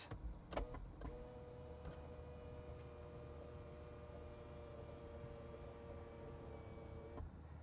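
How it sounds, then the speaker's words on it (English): An electric moonroof motor in a Toyota bZ4X closes with a steady, faint whine heard from inside the cabin after a few brief clicks. It runs evenly for about six seconds before stopping with a soft thunk. "I'll shut the moonroof."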